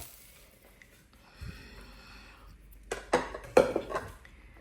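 Cooked green banana (kacha kola) fry being served out of the pan: a few close metallic clinks and scrapes of a utensil against the pan, clustered near the end after a quiet start.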